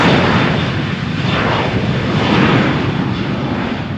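A jet airliner roars down the runway on takeoff at Malaga Airport on a stormy morning, a loud, steady, broadband engine rumble that fills the whole stretch without a break.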